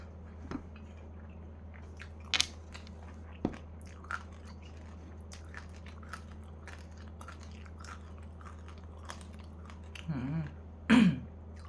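Crispy pork with holy basil rice is bitten and chewed in a quiet room, with a few scattered crunches and a louder burst of crunching near the end.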